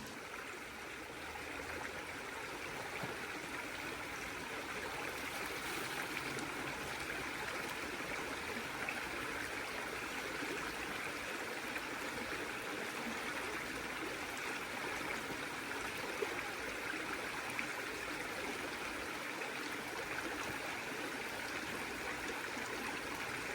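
A stream flows and trickles steadily while a CNOC water bag is filled outdoors on the Appalachian Trail, a continuous close rushing wash with faint gurgles and no talk.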